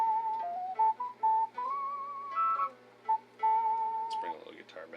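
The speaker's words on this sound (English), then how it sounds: "This is a whistle sound." A whistle voice preset on a modded Casio PG-380 keyboard plays a short, bright melodic phrase of clean, pure tones with a few wavering pitch bends, alone and fairly close, ending in a brief flurry of higher notes.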